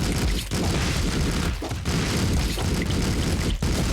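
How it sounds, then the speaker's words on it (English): Sustained gunfire shooting at zombies in a video game, dense booming shots running nearly continuously at high volume, with brief dips between bursts. "Let's start shooting at all of them"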